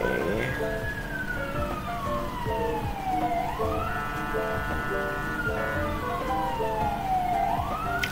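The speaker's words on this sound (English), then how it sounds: "there's an ambulance outside." An ambulance siren wails continuously outside, its tone sweeping up and down and warbling, loud and steady throughout with faint background hum.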